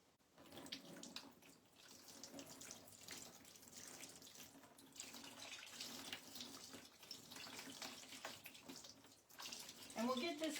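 Running water splashes steadily from a tap as freshly water-marbled paper is rinsed beneath it, a continuous close hiss of flow with a brief louder surge near the end.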